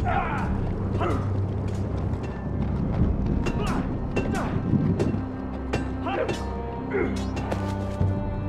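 Horse hooves clip-clop in a steady rhythm through a medieval scene in the Game of Thrones Telltale video game, set against a constant low rumble of ambience and music that runs throughout.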